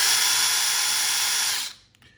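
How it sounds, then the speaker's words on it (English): A power drill set to reverse to back out the screws of a sonic screwdriver toy, whirring loud and steady for under two seconds before cutting off abruptly, no talk over it. "you take a drill and then you put it on reverse"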